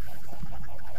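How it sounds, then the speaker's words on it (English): Minecraft chickens: squawking, clucking calls overlap in a dense, loud cluster against a busy background, repeating rapidly for a second. "there's a lot of chicken noises going on here"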